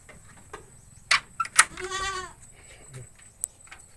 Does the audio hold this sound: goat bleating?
yes